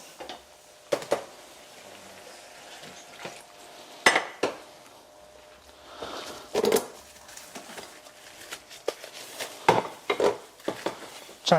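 A frying pan is set on a stove to heat in a kitchen, with scattered clanks and knocks of metal cookware, some sharp and close, over a faint, quiet room hum.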